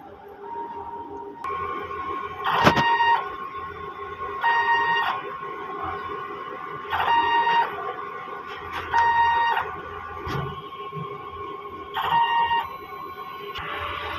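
A DTF printer runs a head clean, its motors whirring in repeated tonal bursts of about a second each with brief pauses between, fairly quiet and close with no talk.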